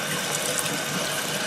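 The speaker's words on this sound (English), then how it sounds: "All I have to do is swish them around a bit, and all the goo falls down through the sinkhole." Running tap water rushes over tomato seeds being swished in a gauze strainer above a sink, a loud, steady, close wash of flowing water with no pauses.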